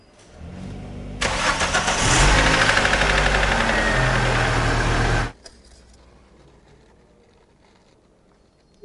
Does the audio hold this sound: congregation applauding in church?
no